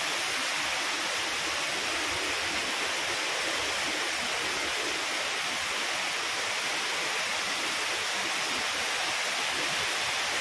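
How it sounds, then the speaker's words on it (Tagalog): Fountain water in Doha, Qatar pours and splashes in a steady, dense rush that stays constant throughout, with no voices over it. "Ang ganda ng fountain."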